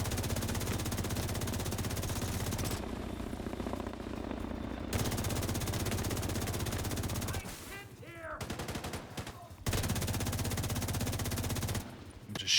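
Rapid automatic gunfire from The Division 2 rattles in long, loud bursts, with a few short gaps of quieter game ambience between volleys.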